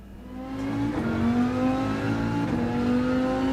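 A race car engine in the video game Gran Turismo 7 drones steadily at high revs, a continuous loud whine with slight pitch shifts and no talking.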